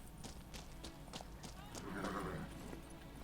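Hooves of Geralt's horse Roach clip-clop in The Witcher 3 as the horse gallops up, a steady rhythm of fairly faint hoofbeats ending with a brief whinny.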